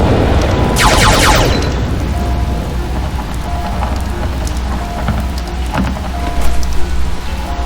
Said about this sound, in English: it's raining here for the update